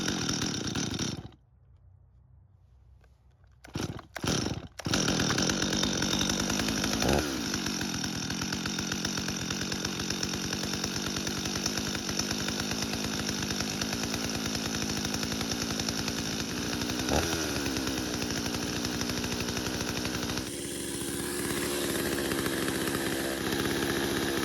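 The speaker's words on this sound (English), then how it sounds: "we'll finally start the saw and see if there are any other problems with it." A Stihl chainsaw, just repaired for an oil leak, is pulled to start, sputters, then roars into a loud continuous high-revving drone, running fast with clutch engaging, close by and without talk.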